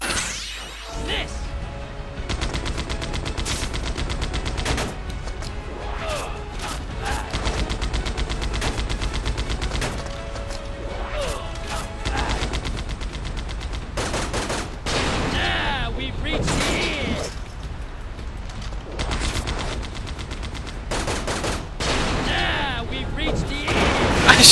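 Gunfire in the video game Disaster: Day of Crisis during a battle on a bridge: repeated sharp bursts and rapid volleys mixed with crashes and game effects, loud and sustained throughout.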